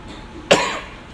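A single sharp cough bursts out once, close and loud, in an indoor church service with the room otherwise quiet around it.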